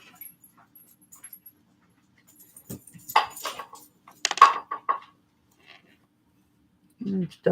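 A dog whimpers at its dinner time indoors, with scattered short whines and panting in a few brief bursts at moderate volume, separated by long quiet stretches.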